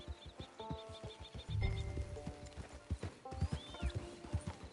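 Horse hooves clip-clop in a quick, even rhythm in the video game Red Dead Redemption, with a brief whinny mixed in, fairly soft and close.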